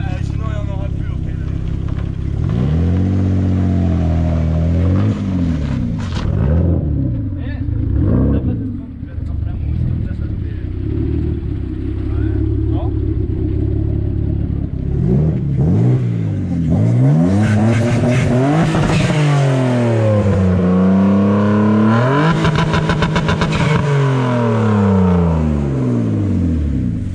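A BMW 325i bi-turbo engine revs repeatedly after repair, rising and falling in loud sweeping pulls at close range, with people talking over it throughout.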